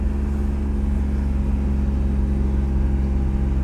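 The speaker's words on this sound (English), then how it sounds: "We are pulling up to grid for session 1 of the advanced group at this TrackDaze event on Dominion Raceway" An Acura NSX rolls toward the grid at a TrackDaze day on Dominion Raceway, its engine a steady low drone heard from inside the car, constant and even without any revving.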